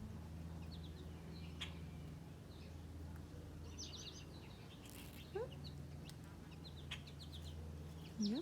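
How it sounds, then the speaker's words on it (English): Little yellow finches chirp and twitter around a backyard thistle seed feeder, with scattered light calls and brief flutters over a quiet low outdoor hum. "those little yellow finches are very happy, flying right into the feeder"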